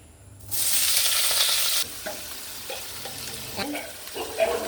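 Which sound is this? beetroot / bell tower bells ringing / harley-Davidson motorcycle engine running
beetroot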